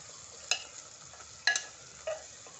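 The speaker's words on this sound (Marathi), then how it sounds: "आता कांदा आणि टोमॅटो आपल्याला छानपैकी परतून घ्यायचं आहे" Chopped onion and tomato being stirred in a pan for chicken biryani, three short scraping strokes over a faint, steady sizzle.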